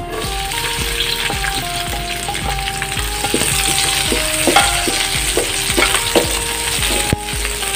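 White onion sizzles and fries in a pan with garlic already browned golden, a continuous crackling sauté with frequent stirring, loud and close and with no talk.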